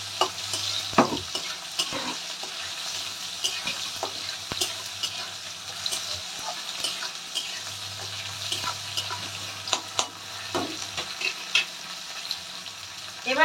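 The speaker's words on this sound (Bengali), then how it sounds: "চালটা এর মধ্যে তেল একটু নেড়ে নিই।" Rice stirred into hot oil with spices in a pan for a Bengali potato and pointed gourd ghonto, giving steady scraping and stirring with a soft sizzle throughout and a few sharper clinks, no talking.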